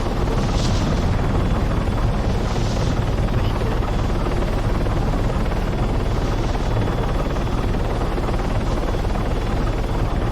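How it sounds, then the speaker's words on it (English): A helicopter in the video game Arma 3 flies with a dense, steady rotor and engine roar that is loud, close and continuous throughout, with no talking. "So, Landon, when your helicopter is yellow like this on your tail rotor"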